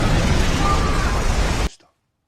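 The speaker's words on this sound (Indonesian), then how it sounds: "kedua desa tersembunyi sudah diberondongi oleh meriam dan mulai dihancurkan" A loud, continuous roaring blast of cannon fire that rumbles for over a second and then cuts off abruptly into silence.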